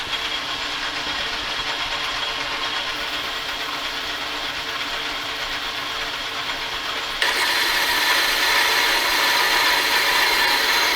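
A machine cutting off 1.25-inch cold rolled steel stock gives a continuous mechanical whirring grind with a hissing edge that jumps louder and brighter partway through as the cut bites, steady and close, no talk.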